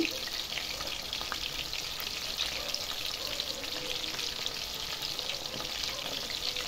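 Chicken pieces fry in a pan over a high flame, giving a continuous bright, crackling sizzle with faint spitting pops, steady and close with no talking.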